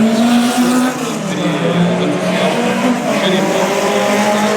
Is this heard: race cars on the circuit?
yes